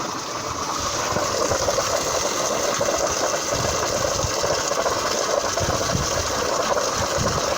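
Water gushes steadily from a hose inside a chicken coop being cleaned, a loud continuous rushing hiss running the full length with faint low thumps beneath.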